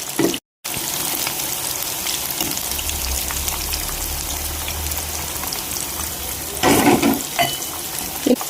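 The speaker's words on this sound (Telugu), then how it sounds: "వీటిని ఇంకొంచెం సేపు ఫ్రై అవనిద్దామండి" KFC-style chicken lollipops deep-fry in hot oil with a continuous bubbling sizzle, a brief dropout near the start and a low rumble underneath, then a louder burst of bubbling and clatter toward the end.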